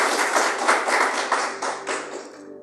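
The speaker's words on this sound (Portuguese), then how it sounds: "Palmas para Jesus" A church congregation claps in praise, a dense, lively burst of many hands close by that gradually thins and fades toward the end.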